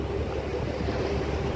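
Tourist boat ride out on the open sea, with a steady broadband wash of waves and wind buffeting the microphone, continuous and fairly close with no voices over it.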